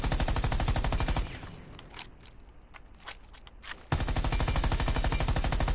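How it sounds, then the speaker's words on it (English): A held-down automatic weapon fires in Rainbow Six Siege: a fast, continuous stream of sharp shots, then a short break with a few clicks and footsteps, then another sustained loud burst. "you're going to press your shoot button and you're just going to hold it down"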